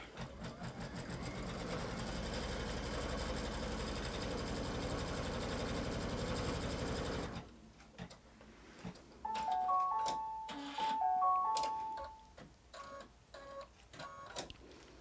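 Embroidery sewing machine stitches in the hoop with a fast, steady mechanical whir for about seven seconds, followed by quieter clicks, thumps and short electronic beeps.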